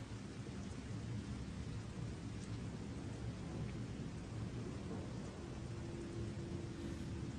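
Steady, heavy rain pours throughout with a low, continuous rumble of thunder beneath it, a storm over a foggy shoreline and rickety pier in a video game novel; loud and unbroken, with no voices.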